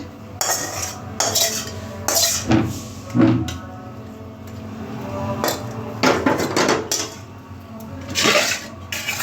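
A pot of crab curry with kulekhara greens is lifted off the stove, with metal cookware and utensils clattering and scraping in repeated close, sharp bursts over several seconds.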